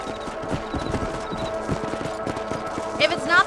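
Rhythmic clip-clop of horse hooves trotting along steadily in the video game Red Dead Redemption, with faint background music and a brief whinny-like sound near the end.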